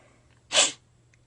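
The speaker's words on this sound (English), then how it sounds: "I'm about to sneeze" A single short, sharp human sneeze, close and fairly loud against a quiet room.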